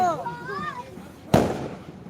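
Someone speaks, then a single sharp firecracker bang cracks out loudly at a village church festival and its echo fades quickly.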